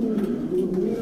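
Female racing pigeons coo softly and continuously at close range in a loft, a low warbling murmur filling an enclosed space.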